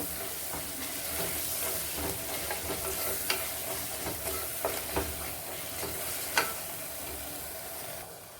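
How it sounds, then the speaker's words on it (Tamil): Steady sizzling of herbs sautéing in a pan for prawn biryani, with soft stirring scrapes and occasional clicks of a utensil, close and continuous without talk. "இதையும் சேர்த்து நல்லா வதக்கணும்."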